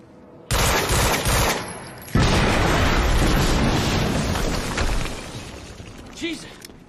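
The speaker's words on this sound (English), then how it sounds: "HQ, we just heard an explosion near the harvesting perimeter." An explosion in the video game Quantum Break bursts in loud and near, followed by a sustained roaring rumble and crackling debris that slowly fades.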